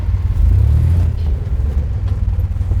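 A turbocharged all-wheel-drive S10 Syclone pickup engine idles close by with a deep, steady, throbbing rumble and slight lope, loud and alone with no voices.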